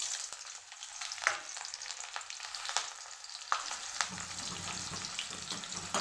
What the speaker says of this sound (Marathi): यामध्ये टाकून घेणार आहे मी हिरवी मिरची